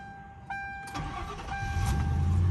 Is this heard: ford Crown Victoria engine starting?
yes